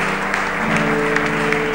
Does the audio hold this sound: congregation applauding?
yes